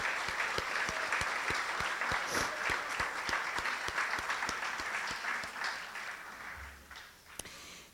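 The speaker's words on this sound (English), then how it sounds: "Please join me in a round of applause." Audience applause at an annual organizational meeting honoring standing staff, a sustained wash of clapping with distinct individual claps, steady then tapering off toward the end.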